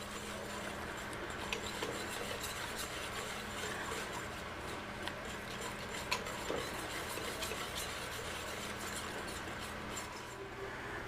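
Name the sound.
whisking sugar into blueberry jam mixture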